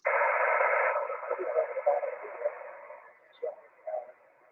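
A weak, garbled amateur radio transmission on 146.415 FM, noisy and band-limited, starts with a strong burst of static-laden signal and then fades into faint, broken fragments of an unintelligible voice.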